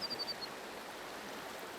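Forest stream water flows with a soft, even rush throughout, and a thin high chirp sounds briefly at the start; no bathing splashes stand out.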